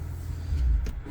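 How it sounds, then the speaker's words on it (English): Low, steady rumble of a Ford Maverick's loud exhaust at a Sunday morning car meet, a brief swell in the middle before settling back to a deep idle. "You hear my loud exhaust?"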